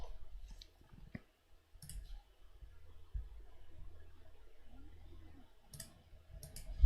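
A few sharp computer mouse clicks sound sparsely and faintly over a quiet room, coming singly or in quick pairs during a live crypto trading chart session.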